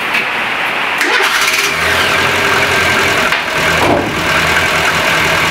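A car engine cranks and catches, then runs loudly with a steady mid-pitched idle close by, with a couple of brief revs.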